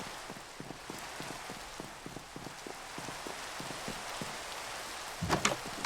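Rain falls in the Minecraft video game, a steady hiss of broadband patter with regular soft dripping taps, continuous and fairly quiet, with a short louder rumble near the end and no talking.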